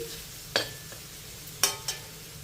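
Food fries in a pan on a home stove for a red chilli dal and potato fry, a faint steady sizzle broken by three quick scrapes of a stirring spoon.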